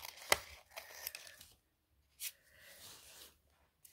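Decorative scissors cut through paper while making a scrap notebook for a junk journal: a few crisp snips and dry rustling strokes close by, separated by short pauses, with no talking.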